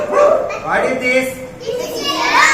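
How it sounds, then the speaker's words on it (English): Dog barks ring out among children's chatter and voices during a classroom animal-sounds activity, several short yips spread across a few seconds over a busy backdrop of talk. "This is a dog."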